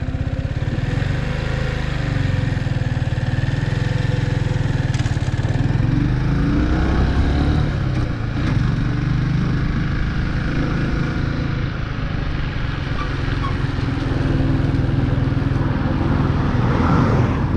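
A motorcycle engine revs harder as the clutch is released on a steep hill start, a loud, continuous, rumbling engine drone with rising and falling throttle and wind buffeting, close up, no speech.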